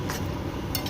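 A utensil stirs bottle gourd and shrimp curry cooked with little oil in a pan, giving a faint, brief metallic scrape and clink against a soft, steady background hiss.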